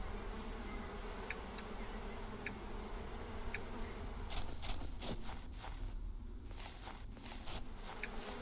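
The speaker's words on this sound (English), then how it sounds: "More grumpy bees." Buzzing bees in the APICO video game, a soft, steady insect drone under faint game ambience, with scattered bright ticks and a denser run of clicking interface sounds partway through.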